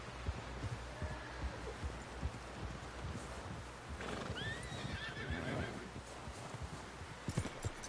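In Red Dead Redemption 2, a horse whinnies amid the steady clip-clop of hooves, with muffled shouting voices and a busy game soundscape underneath.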